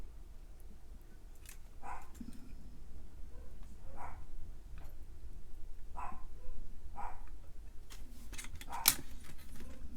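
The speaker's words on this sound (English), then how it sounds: "her dogs bark when she leaves, and then my dogs bark" Dogs barking in a neighbouring area, several sharp barks scattered across the stretch, moderately distant over a low background hum.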